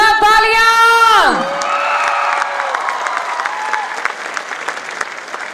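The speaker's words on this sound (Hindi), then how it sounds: "हमारे पांचों डायमंड्स के लिए जोरदार तालियां" A crowd at a hall program claps loudly for five diamond-level members, rising cheers and whoops over a long wash of applause, with a sliding musical fanfare at the start.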